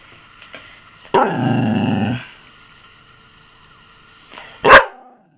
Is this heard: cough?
no